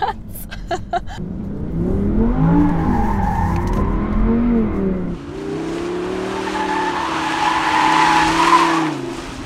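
An Audi R8 RWS drifts, its tires squealing in long wavering howls over a growling engine that rises and falls, fairly close and continuous for the whole stretch.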